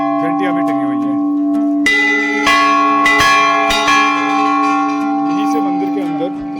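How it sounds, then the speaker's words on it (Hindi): Large temple bells struck repeatedly at the ancient Shri Bagnath temple, loud, ringing tones with sharp strikes layered over long sustained hum, voices faintly audible beneath. "विशाल घंटियाँ भी टंगी हुई हैं।"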